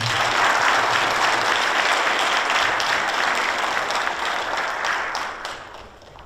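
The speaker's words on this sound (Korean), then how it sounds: "힘찬 박수 부탁드리겠습니다" Hearty applause from the audience at a labor union's 21st anniversary ceremony after an award is presented, a loud sustained wash of clapping that fades away toward the end.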